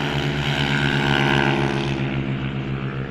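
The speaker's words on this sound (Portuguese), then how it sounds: "Deixa a moto passar aqui." Motorcycle passing close by, its engine a loud, steady droning hum with a buzzing, harmonic tone that holds for a few seconds and softens slightly at the end.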